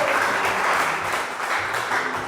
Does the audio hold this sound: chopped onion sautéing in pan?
no